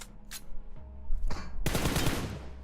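Gunfire in the BGMI battle royale video game, a few muffled shots followed by a dense burst of rapid fire, heard at moderate volume with no talking.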